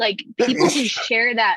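One short, sharp sneeze at the very start, followed at once by a person talking.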